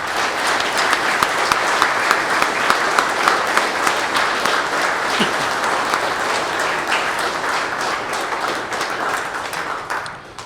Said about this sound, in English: We ask now for you to assist us in honoring these heroes with a round of applause